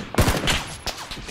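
Gunfire in the battle royale game PUBG: a quick burst of several sharp shots followed by a few more scattered cracks, loud and close, with no voices.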